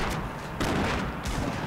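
Bursts of gunfire in the Fortnite Battle Royale video game, loud and dense, with sharp onsets recurring about every half second across a short burst.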